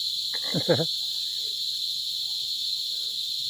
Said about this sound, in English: As you can hear, the cicadas,